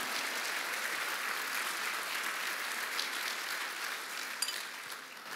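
Steady applause from a church congregation, a dense even wash of many hands clapping together throughout without a break, moderately loud and fairly close.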